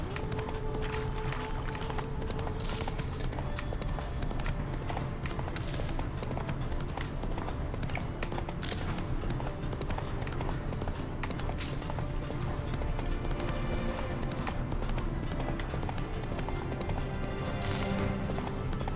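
Galloping horse hooves in The Witcher 3 video game, a steady continuous clip-clop rhythm running throughout over dense game music and ambience.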